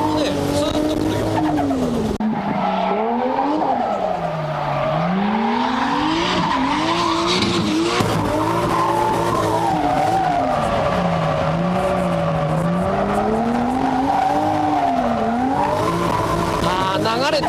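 A car drifting on Korean-made tires, engine revving up and down while the tires squeal and skid in long, wavering slides, loud and close throughout.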